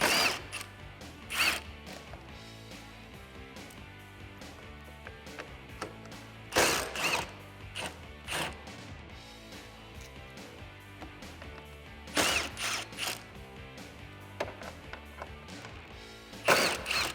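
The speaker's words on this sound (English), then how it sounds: "Let's grab your 10mm socket, and you may want a small extension, and remove these." A ratchet with a 10mm socket works loose headlight bolts on a 2015-2017 Ford F150, giving close, repeated clicking bursts in short runs between quieter mechanical handling.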